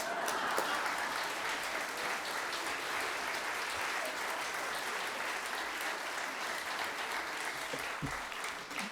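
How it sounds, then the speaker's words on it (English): Steady, dense applause from an audience at a lecture, holding an even level throughout nine seconds with no voices rising above it. "We usually applaud at this point."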